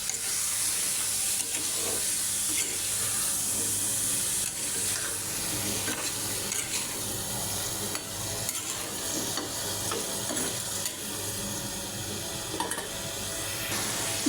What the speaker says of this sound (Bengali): আর মশলার সাথে কচুর ছড়াটা ভালো করে মিশিয়ে নেব।